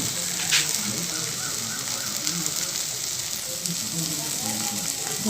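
Potatoes frying in a pan for an Assamese sour fish curry, a continuous close sizzle with faint stirring and soft background voice.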